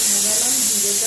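A pressure cooker boiling potatoes on a home stove lets out a steady, continuous steam hiss, with a faint voice murmuring underneath.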